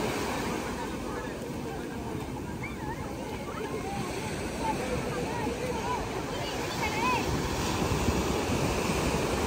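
Indian Ocean waves wash onto the shore in a steady, loud surf rumble with gusty wind buffeting the microphone, while voices and calls sound faintly over the breaking water.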